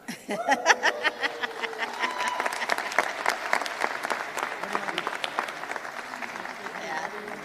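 Applause breaks out at a governor's announcement of the state's first poet laureate, with crisp individual claps close by, a crowd clapping behind them and some talk and light laughter mixed in.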